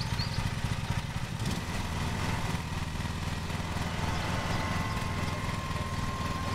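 Lawn mower engine in the Lawn Mowing Simulator video game, a steady mid-pitched running drone that holds loud and even throughout with no pauses, alone without talk.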